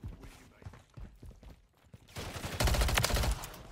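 A Striker 9 submachine gun firing in Modern Warfare 3 multiplayer, scattered softer shots and thuds at first, then a loud close rapid burst of automatic fire over the last second and a half.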